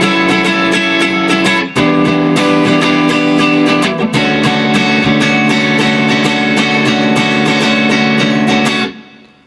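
A guitar strums the full chord progression of the chorus of a song, steady and loud, with a couple of brief breaks before it rings out at the end.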